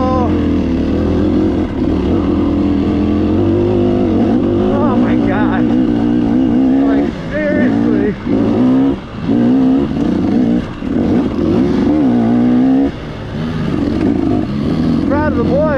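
Small-bore two-stroke dirt bikes, including a YZ, ride up a Peach Valley trail, their engines droning and revving loud and near throughout, rising and falling in pitch with throttle changes.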